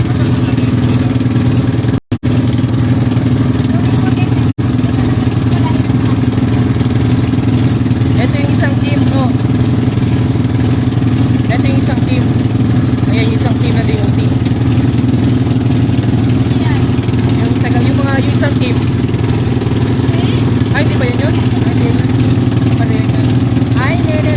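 A loud, steady engine drone runs throughout, like a motorcycle idling or revving nearby, with voices talking faintly over it.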